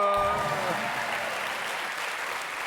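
On a TV game show, the studio audience bursts into steady applause that follows a brief musical tone and fades gently over a few seconds, with some speech mixed in.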